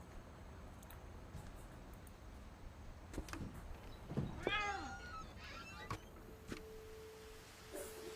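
Amid faint clicks and knocks in the video game What Remains of Edith Finch, a cat gives one clear, wavering meow midway, followed by a low steady tone near the end.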